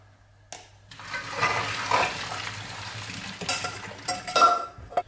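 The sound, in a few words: draining cooked pasta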